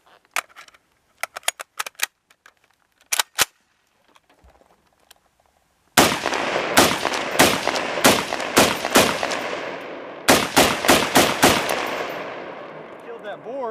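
Rifle fire at an outdoor range: scattered single shots at first, then rapid strings of loud, close, sharply cracking rounds with ringing echoes, fired in quick bursts.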